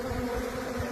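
Bees buzzing near wild mountain honey on a cliff face, a dense steady hum of many insects close by, with no talking over it.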